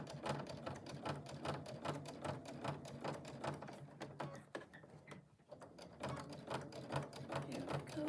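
A sewing machine stitching slowly through thick layers of a jelly roll fabric basket, a steady close rhythmic clatter that pauses briefly midway and then resumes at the same pace.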